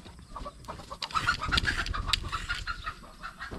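A chicken clucks in a series of short, fairly close calls, rising to a busier burst in the middle, with faint background noise and no talking.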